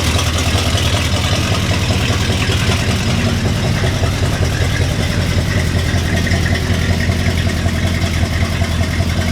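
1975 Chevrolet C30 truck V8 idling through Flowmaster exhaust, a steady, fairly loud throaty rumble with slight clatter, close and unbroken for the whole stretch.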